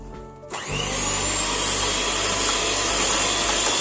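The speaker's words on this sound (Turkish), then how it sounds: "Mikserle çırpmaya başlıyoruz." An electric hand mixer starts abruptly and whisks four egg yolks with sugar in a mixing bowl, a loud, steady whirring motor whine that holds constant after the quick spin-up.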